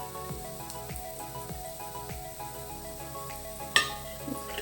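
Sweet coconut vada batter frying in hot oil, a continuous bubbling sizzle with a few soft pops and one sharp clink of a utensil near the end, no talk.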